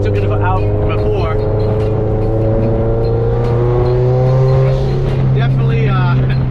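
A 2018 Subaru STI on a test drive, its engine holding a steady loud drone that rises gradually in pitch as it accelerates, with a voice talking over it throughout.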